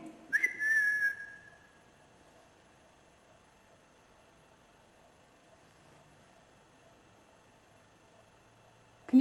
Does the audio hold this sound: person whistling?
yes